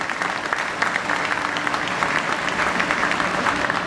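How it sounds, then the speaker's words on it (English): Sustained applause from a large crowd, dense steady clapping throughout at an even level. "Let's give him a round of applause."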